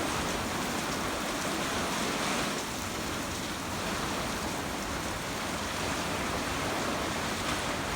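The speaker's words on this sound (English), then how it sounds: "Now it's raining harder." Rain falls harder on a windy, cold ranch yard by a new corral gate, a steady broad hiss that stays even and unbroken throughout, with no voices.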